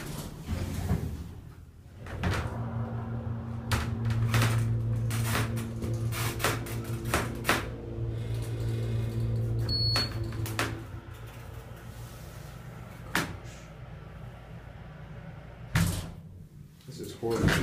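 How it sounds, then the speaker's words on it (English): A squeaky Kone hydraulic elevator in a Marshall's store at Market and 11th Streets runs with a low steady motor drone, door clunks and thuds, and a brief squeak, while someone talks over it. "Squeaky elevator. Not squeaky clean, that's for sure."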